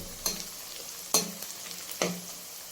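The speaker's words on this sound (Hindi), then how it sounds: "तो ये प्याज हमारा थोड़ा सा फ्राई हो गया इस तरह" Onions fry quietly in a pan with a soft steady hiss, broken by three sharp clicks or clatters spaced about a second apart.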